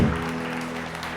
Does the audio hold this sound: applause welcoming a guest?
yes